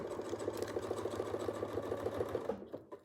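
Sewing machine stitching fabric at a steady fast pace, a close rhythmic whirring chatter that stops abruptly near the end, no speech.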